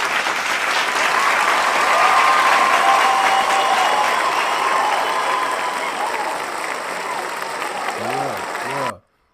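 A canned applause sound effect triggered from a clap button during a live online show, a loud, full crowd cheer and clapping that runs steadily for about eight seconds and cuts off abruptly, with a voice briefly heard near the end.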